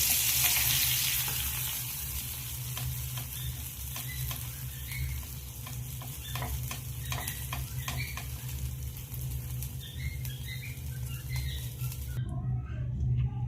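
Masala fish frying in a pan, a loud, steady close sizzle with crackling oil and occasional stirring scrapes, cutting off near the end.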